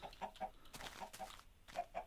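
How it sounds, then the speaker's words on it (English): Short clucks from chickens in Minecraft repeat in quick, uneven bursts, fairly close and clear, with no talking. "all this world has is chickens."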